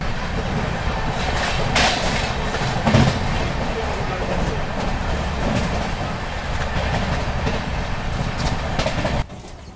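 Secunderabad Duronto Express running on the tracks, a steady loud rumble with clickety-clack of wheels heard from inside the carriage, passengers talking underneath, before the noise cuts off abruptly near the end.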